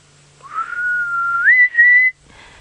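A person whistles a single rising, drawn-out note that steps up in pitch and holds, imitating the call of a grey hornbill, clear and close against quiet background.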